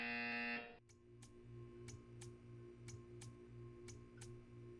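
Loud harsh electronic buzzer from the video game Portal 2 sounds for about half a second, then cuts off, leaving a low hum and regular ticking clicks.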